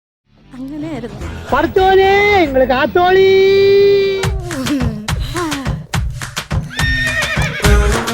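A person's voice imitates a horse with a long, wavering whinny, then follows with a run of sharp clicks like hooves clip-clopping.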